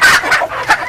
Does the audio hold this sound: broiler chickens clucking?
yes